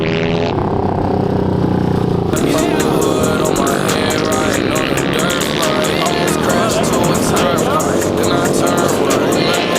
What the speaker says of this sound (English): they got pit bikes out there.